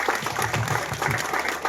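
A short burst of clapping from an audience at a Rotary Club health camp at a school, brief and fairly close, with no voices over it.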